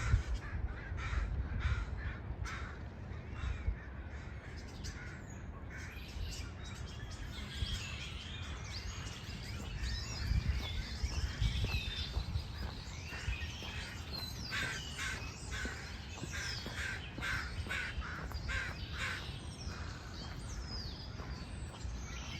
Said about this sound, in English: The crows came in and shut them all up.